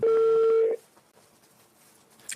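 Touch-tone keypad beeps as a phone number is dialed to reach a caller in Brazil: a loud steady tone for under a second, then quiet room hiss and a faint blip at the end.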